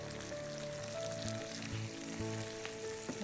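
Snake gourd with egg fries in a pan with a soft, even sizzle and crackle, heard close and steady under a faint background hum, with no talking.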